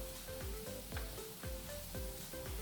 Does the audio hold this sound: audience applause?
no